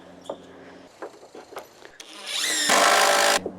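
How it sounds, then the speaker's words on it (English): A power drill whirs in short bursts, then runs longer and louder as it drives a screw into wooden deck boards, with some light clatter between runs. "you screw it in a little bit just so that it bites, and then you reverse the drill"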